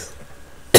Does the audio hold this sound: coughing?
yes